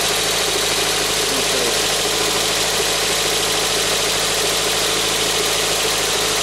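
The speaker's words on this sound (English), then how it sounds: "no more misfire, engine runs great" A 1992 Toyota MR2 engine runs at idle after a misfire fix, its steady smooth drone loud and close for the whole stretch, with a short spoken word in the middle.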